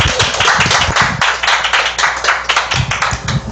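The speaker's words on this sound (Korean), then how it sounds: "박수 부탁드리겠습니다." A small indoor audience claps for a presenter at a talk, sharp distinct hand claps close to the recorder, lively and uneven in rhythm, with no voices over them.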